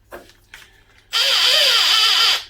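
A rechargeable cordless drill with a 4.5 mm bit whirs loudly and steadily for about a second, then winds down, after a couple of soft knocks and clicks.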